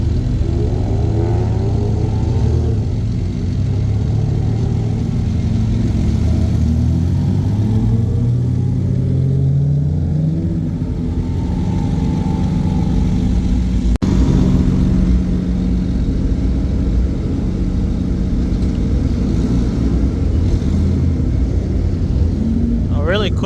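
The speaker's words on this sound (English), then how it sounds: "I'll let you guys enjoy all these cars, all the natural noises that they're making." Engines rev and rumble at a downtown Los Angeles import car show, rising and falling through repeated throttle blips amid steady crowd chatter and voices nearby.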